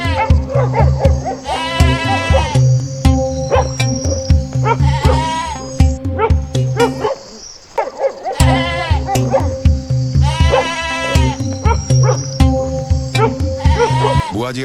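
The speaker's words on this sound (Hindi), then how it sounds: "मेरी बकरी पर कुत्ता झपट रहा है" A goat bleats loudly and repeatedly while a dog attacks it, the cries overlapping with barking in a frantic, continuous stretch that breaks off briefly midway before resuming just as intensely.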